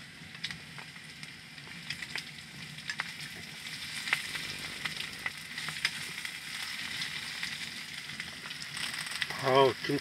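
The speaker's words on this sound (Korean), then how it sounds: "김치가 아주 잘 볶아졌어요." Kimchi stir-frying in a pan at a cold winter campsite, with crackling sizzle and scattered clinks of stirring that sound fairly close, and a sharper burst of noise near the end.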